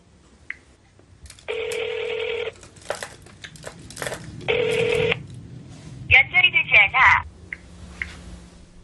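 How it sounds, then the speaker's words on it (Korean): Telephone dialing tones sound loudly at close range as an older person places a call: two long steady tones, then a quick run of short beeps, with scattered handling noises. "또 다른 친구를 찾아 전화를 걸어봅니다."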